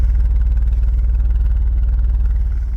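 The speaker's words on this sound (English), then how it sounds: "the rhythm that you hear from the lifters or whatever it is can also be heard from the exhaust" A Volvo 960 with a 3.0 engine runs steadily at idle near the exhaust, a loud low drone carrying an even, rapid ticking pulse from the lifters throughout.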